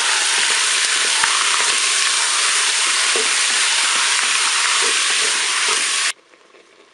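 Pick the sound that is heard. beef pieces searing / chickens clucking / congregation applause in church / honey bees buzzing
beef pieces searing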